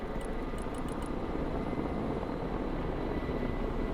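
Military helicopters in the Broken Arrow real-time strategy game, a continuous loud rotor and engine drone filling the scene, with a few faint high beeps early on and no talk.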